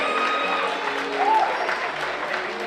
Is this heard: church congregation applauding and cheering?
yes